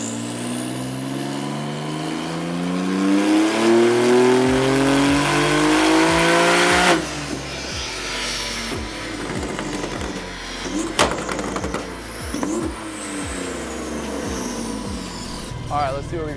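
A Porsche 992 911 Turbo S upgraded past 900 horsepower roars through a dyno pull, its engine note climbing loud and sustained before cutting off. Clunks and shorter bursts of revving follow while people talk nearby.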